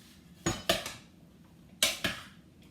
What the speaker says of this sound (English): I'm just gonna give it a few stirs